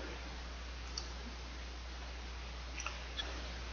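A computer mouse gives a few soft, isolated clicks, close but faint, over a quiet background hiss.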